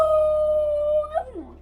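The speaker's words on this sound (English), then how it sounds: "it was so sad to hear her howl" A dog indoors gives one long, steady, mournful howl at close range, then breaks off into a short whimpering wobble as it trails away.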